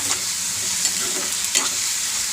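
Green chillies, curry leaves and onions fry in a pan, a steady close sizzle with a few faint stirring scrapes and no talking.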